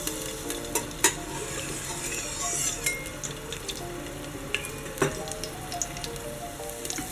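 Garlic, green beans, potato and carrot sizzle in olive oil in a pot, with a soft continuous fry broken by sharp clinks and scrapes of a utensil stirring against the pan.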